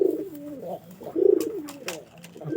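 A pet pigeon coos in soft, throaty repeated phrases close by, with a couple of rolling coos rising and falling over about two and a half seconds.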